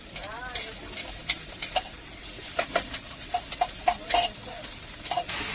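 Onions, rice and garlic frying in a pan, with a steady sizzle under repeated scraping and clinking stirs spread through the whole stretch.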